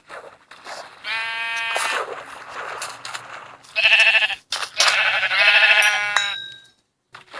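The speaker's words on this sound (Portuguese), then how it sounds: "2 ovelhas." Sheep bleating in the video game Minecraft: several loud, close, wavering bleats in bursts over a few seconds, with no talk over them.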